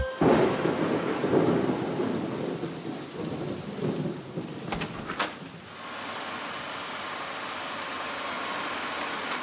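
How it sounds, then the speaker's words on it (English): Heavy rain pours steadily with rumbling thunder early on, a couple of sharp cracks midway, then an even hiss of rainfall settles in. "It's raining."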